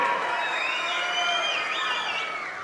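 A crowd at a Kuppam press meet cheers and shouts in a sustained, fairly loud wash of voices, with a few higher whoops rising above the noise throughout.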